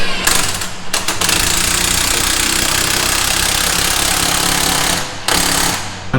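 Loud, steady mechanical rattling and hammering as a spring compressor squeezes the coil spring of a Toyota RAV4 strut during an Eibach Pro-Lift spring install, running nearly continuously with short breaks near the start and end.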